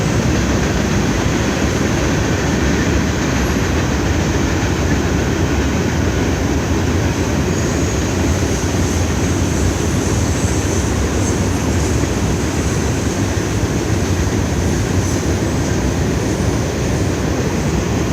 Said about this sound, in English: Having the best train day in the world while just watching this train.